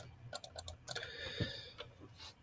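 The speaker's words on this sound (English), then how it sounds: "I just realized I'm typing on the wrong keyboard" Typing on a computer keyboard beside a Chromebook, heard as a quick burst of light clicking keystrokes followed by a few scattered taps, close and fairly quiet, with no speech.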